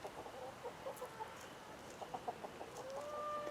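A young olive egger rooster clucks in short, scattered bursts, then gives a thin, drawn-out crow near the end, heard at moderate distance over quiet background noise.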